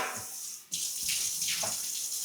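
Tap water runs in a close, steady hiss and splash, cuts out briefly, then gushes again with a continuous, fluctuating stream.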